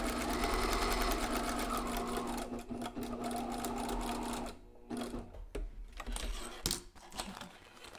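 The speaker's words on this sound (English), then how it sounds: "I'm going to sew that up now." A sewing machine stitches elastic into a fabric face mask, a fast steady mechanical rattle that runs for several seconds, then slows into short bursts and clicks.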